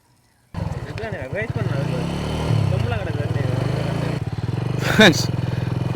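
A motorcycle engine putters and revs nearby on the Mandur–Vellavely main road in Batticaloa, Sri Lanka, its chugging rhythm steady throughout while people talk over it.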